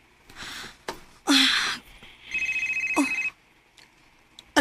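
A telephone rings in a radio drama, a short run of rapid electronic ring pulses heard close between loud breathy gasps and sharp bursts, with no speech.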